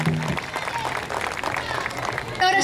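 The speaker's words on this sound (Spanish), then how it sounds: "Fuerte aplauso a Washington Bittencourt en tumbadores" Applause from an outdoor festival crowd for a conga percussionist, a brief moderate burst of clapping mixed with chatter and shouts, with a voice cutting in at the very end.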